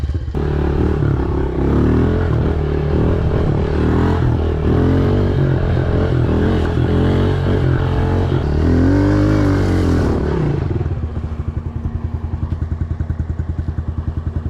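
A motorcycle engine warming up idles loudly and steadily up close, a thick rumbling drone that drops to a lower, pulsing idle near the end.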